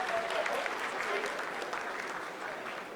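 Applause from a crowd watching the live Chandrayaan-3 lunar soft-landing broadcast, a dense and continuous clapping that stays loud and steady for the whole stretch.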